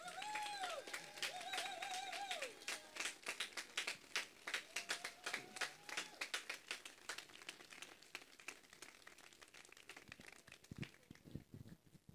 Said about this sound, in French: je voudrais qu'on lui fasse une ovation parce que c'est un battant extraordinaire